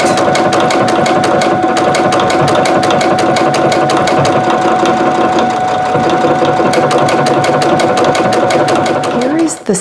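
A sewing machine stitches a quilt border in a fast, even rhythm of needle strokes, loud and close, running without a break until it stops at the very end.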